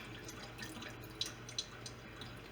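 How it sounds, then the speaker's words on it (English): Pasta draining in a kitchen strainer, heard as a faint steady trickle of water with a few small drips standing out, quiet and close, with no speech. "Put that right there on the strainer. Try draining them."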